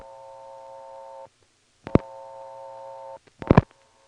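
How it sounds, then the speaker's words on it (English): Old step-by-step telephone exchange from 1977 in Ramseur, North Carolina: a steady multi-tone signal plays, cuts off, and a loud dial click lands before the tone resumes; then more clicks as digits go through and the call is blocked. "I'm going to try dialing 39 plus the absorbed digit 4, and then a 1"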